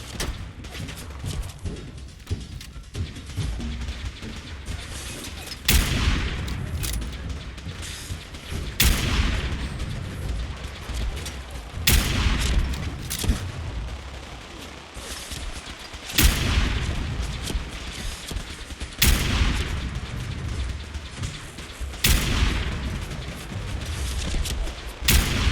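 Missiles strike in Fallout 4, each landing as a loud, deep boom at intervals of a few seconds, with crackling gunfire and rumbling battle noise filling the gaps in between.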